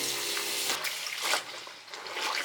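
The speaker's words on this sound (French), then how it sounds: "Je pense que le secret c'est de bien essorer entre chaque rinçage." Rinsed laundry is wrung out by hand aboard a sailboat in the Cyclades, with water streaming, trickling and splashing close by in uneven surges and drips.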